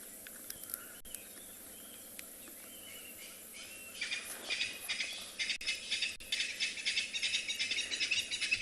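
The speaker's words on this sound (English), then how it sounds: "Not so much the incredibly, brutally noisy crested francolin." A crested francolin on the Tswalu reserve at sunset breaks into loud, harsh, rattling calls in rapid repeated bursts that grow stronger toward the end. Before the calls start there is only quiet ambience with a few faint chirps.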